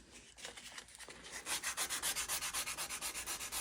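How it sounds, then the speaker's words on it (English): An axe handle is rubbed with 220-grit sandpaper: a few irregular scrapes at first, then a quick, even run of back-and-forth strokes, close and fairly loud. "Take you some sandpaper. Go with the 220."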